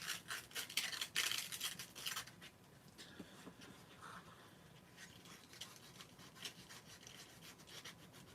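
Sanding the edge of a leather keychain by hand, with rapid scratchy rubbing strokes close up, loud bursts at first and then lighter, intermittent scrubbing.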